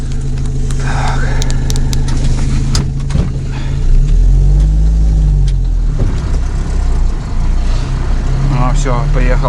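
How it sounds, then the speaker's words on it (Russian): A UAZ off-road vehicle with one frozen wheel pulls away, its engine revving hard and droning loudly throughout while someone talks over it. "А, все, поехала машина. Блин, одно колесо замерзло, оказывается, сперва."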